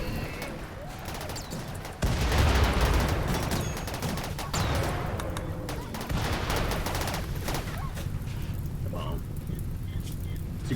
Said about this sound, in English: You can see the mortars don't do a ton